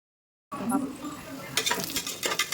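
Onions browning in a pan for biryani, a steady sizzle with bursts of stirring and scraping after a short silent start, close and fairly loud.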